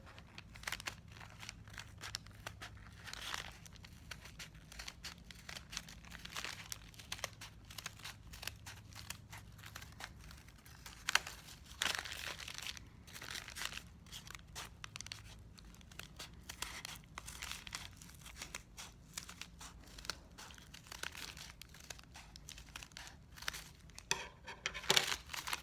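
Scissors work slowly through a thick paper heart garland, making quiet, irregular crunching and crinkling snips for about twenty-five seconds. No voices are heard.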